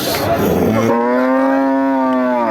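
A cow on a beef cattle fattening farm lets out one long, loud, drawn-out moo close by, with no talk over it.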